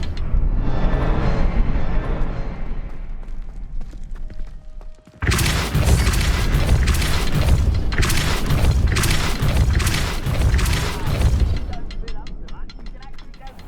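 A Depulso spell is cast in Hogwarts Legacy, setting off loud, close booming blasts that roll into a long stretch of heavy, rumbling bursts before fading.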